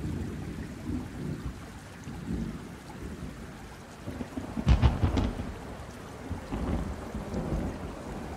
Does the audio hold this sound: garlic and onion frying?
no